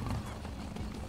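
A horse gallops in The Elder Scrolls Online: a brief, steady run of close hoofbeats with no voices over it.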